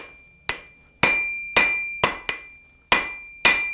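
A blacksmith hammers heated steel on an anvil, seven sharp ringing blows at an uneven rhythm, each with a bright metallic ring that decays before the next strike.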